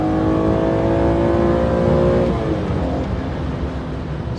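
A stock BMW E46 M3 engine revs hard through a third gear pull toward 7,000 RPM, a loud steady rising drone that eases off near the end, with no talking.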